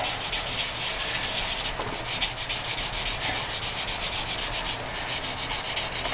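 Sandpaper rubs rhythmically over black balsam wood while shaping finger grooves, a loud, close, continuous scratchy back-and-forth stroking with one brief pause.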